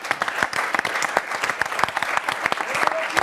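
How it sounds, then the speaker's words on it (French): A television studio audience claps loudly to welcome two improv comedians onto the set, a dense run of sharp individual claps that holds steady throughout. "Allez, on termine cet after par Oda et Dako, que je vous propose d'applaudir et d'accueillir sur le plateau."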